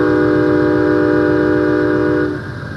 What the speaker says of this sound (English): that's the warning whistle